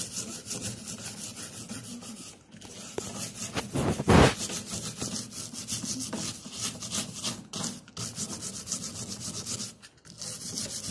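Small brush scrubbing brass, a close, continuous rasping scrub in short back-and-forth strokes with a brief louder scrape partway through, at moderate loudness with no talk.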